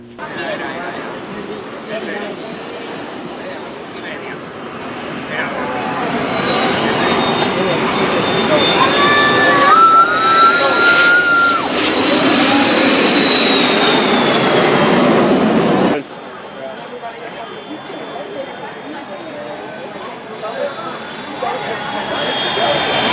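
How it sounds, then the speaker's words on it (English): Jet airplanes fly low overhead at Maho Beach, St. Martin, a loud engine roar swelling to a long peak before cutting off abruptly, with a lighter engine drone after, and people talking beneath. "Maho Beach, planes fly right over your head, and they almost feel like they're gonna run right into you"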